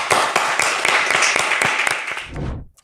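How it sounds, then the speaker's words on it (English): An audience applauds a startup founder walking on stage at a pitch event, a dense burst of clapping that holds steady for about two and a half seconds and then quickly dies away. "Round of applause for founder number 3."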